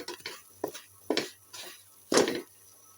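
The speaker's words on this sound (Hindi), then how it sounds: "अब सूजी को हम भूनना शुरू करते हैं" Semolina roasting in hot ghee for suji and egg halwa is stirred in a pan, giving a series of intermittent scraping and rustling strokes at close range, without talk.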